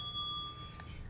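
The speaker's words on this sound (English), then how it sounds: "Did I ring my bell?" A small bell rings once with a thin, clear ringing tone that fades over about a second, soft and alone.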